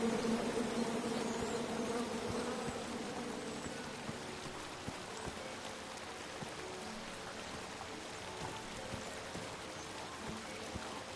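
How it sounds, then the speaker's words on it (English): A swarm of bees buzzes in a video game, a continuous faint droning hum that holds steady throughout with no voices. "Come at me, bees!"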